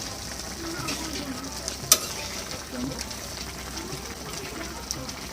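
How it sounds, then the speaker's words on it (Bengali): Potatoes and flat beans are stirred in a covered pan for a vegetarian dish, a soft, quiet sizzle with gentle scraping and one sharp clink partway through. "ঢাকনাটাকে উঠিয়ে মাঝখানে একটু নাড়াচাড়া দিয়ে দেব"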